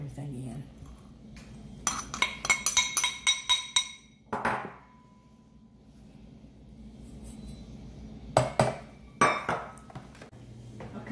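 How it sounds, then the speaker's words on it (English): Utensil clinking and scraping against a bowl while flour and sugar are mixed for cherry cobbler, a burst of rapid clinks followed by a few louder knocks and scrapes, with a low room hum underneath. "Just gonna mix it in all the flour in with a little bit of the sugar, and then it'll be smooth."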